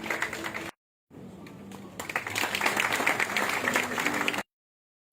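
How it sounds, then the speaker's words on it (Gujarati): An audience at a scholarship award ceremony applauds a student, steady crowded clapping that swells after a brief gap and then cuts off abruptly, fairly loud with murmuring underneath. "તાળીઓ થવી જોઈએ।"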